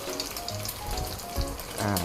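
Two chicken eggs cracked into hot oil in a wok, frying with a steady crackling sizzle that swells louder near the end, close by with no talk.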